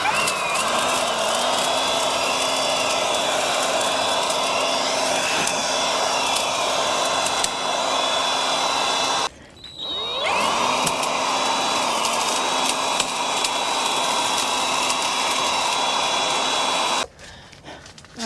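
A vacuum cleaner runs at a loud, steady whine during a solo camping trip, broken by two brief cutoffs before it starts up again and keeps droning.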